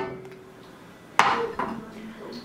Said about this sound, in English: I'm gonna put a large pan on a medium heat, and I'm just gonna drop in some oil,